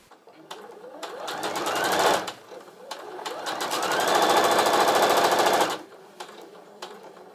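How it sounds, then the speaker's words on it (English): A sewing machine stitches quilt strips for a one-layer cake quilt, running in two loud sustained bursts of rapid needle chatter separated by brief pauses, with softer handling clicks at the start and end. "I'm going to sew these and then I'll show you what the first column looks like when it's all done"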